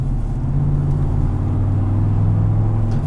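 A deep, steady exhaust rumble from an idling 2017 GMC Sierra 1500 SLT pickup with a factory muffler, loud and close, with a low throbbing drone and no talking.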